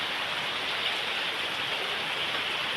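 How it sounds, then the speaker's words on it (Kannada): Steady, dense rainfall hissing continuously on a surface, even and unbroken throughout, with no voices. "ಅಂತೆ ಮಳೆ ಬರ್ತಾ ಉಂಟು"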